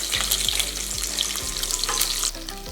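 Bacon sizzling and crackling in a hot greasy pan, a dense, continuous frying hiss close up, with a few soft scraping stirs and no talking.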